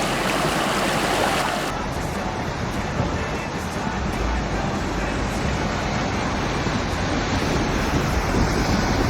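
A mountain river rushes loudly and steadily in a continuous roar of broadband water noise, with wind buffeting the microphone at the start.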